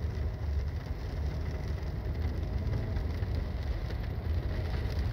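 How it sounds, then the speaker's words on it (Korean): Steady rain falls outside on a wet night, a dense, even hiss with no breaks running the whole time, fairly close and moderately loud, with no voices. "나는 뭐 중요할 때 항상 비가 오는 걸까?"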